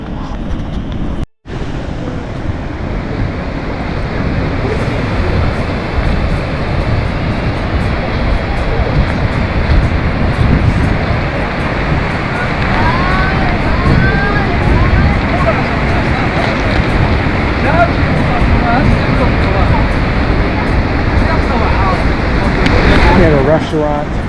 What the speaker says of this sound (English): the waves are real rough right now, very choppy